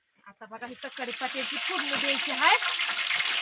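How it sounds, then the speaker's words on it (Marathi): Curry leaves tempering in hot oil, crackling and sizzling up close in a steady frying hiss that builds after a few sharp pops at the start. "आता फोडणी द्यायची आहे बघा कशाची कडीपत्याची"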